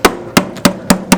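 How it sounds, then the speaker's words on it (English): A hammer smacks a car's firewall seam during a right-hand-drive conversion, five sharp, loud metallic blows at an even, quick rhythm, close up, with no talk. "use the hammer to smack it up"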